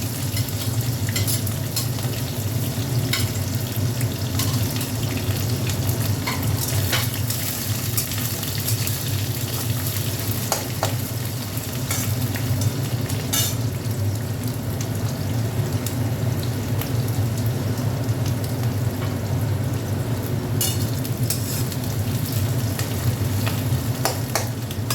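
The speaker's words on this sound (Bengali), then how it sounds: "এখানে একটু পেঁয়াজ ভেজে নিচ্ছি অল্প করে" A small batch of onion frying in a pan, a loud continuous sizzle with occasional clicks and scrapes of stirring under a steady low rumble, with no voices.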